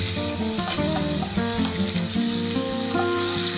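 Dried fish fries in hot oil over a low flame, giving a steady, close, dense sizzle with a constant crackle throughout and no talking.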